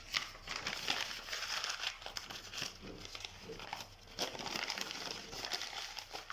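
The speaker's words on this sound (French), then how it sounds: "Donc des petites boulettes de papier." Scrap paper is crumpled by hand into small balls, giving a continuous close-up crinkling and crackling that rises and falls in bursts throughout, with no voice over it.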